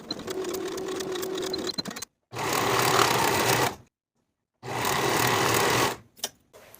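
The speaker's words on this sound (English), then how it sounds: "Sew the side seams at 5/8 of an inch" A sewing machine stitches the side seams of a ruffle tier dress at 5/8 inch in three close, loud runs of fast mechanical whirring, broken by brief silent pauses.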